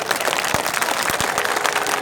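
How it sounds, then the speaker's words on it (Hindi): Audience applause at a gathering, a dense, steady patter of many hands clapping together, moderately loud and continuous, with a few sharper individual claps standing out. "एक बार मुराद साहब के लिए तालियां और हो जाए"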